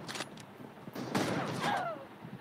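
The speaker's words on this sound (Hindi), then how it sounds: "अब मैं दिखाता हूँ स्नाइपर कैसे चला।" Sniper rifle shots in the mobile battle royale game BGMI, a few sharp cracks spread over a couple of seconds at moderate volume, with in-game rustling and a faint whistle-like tail.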